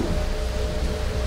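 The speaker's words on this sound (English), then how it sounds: "But I wish it wasn't fucking raining." Steady, dense rain falls in the Darkwood video game, a continuous even hiss with a low rumble beneath it and no voices.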